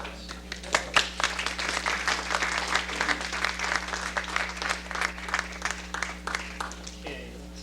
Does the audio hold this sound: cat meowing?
no